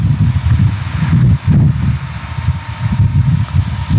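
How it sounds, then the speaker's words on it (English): Gusty wind buffets the microphone of a BWINE F7 drone outdoors with low, rumbling bursts that rise and fall continuously, loud and close throughout. "it's a little bit windy"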